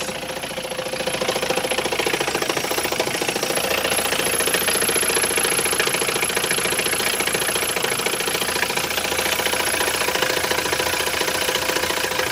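A 1967 Mercedes W110 200D diesel engine idles steadily and loudly with a rough, knocking rattle, holding an even rhythm throughout with no talking.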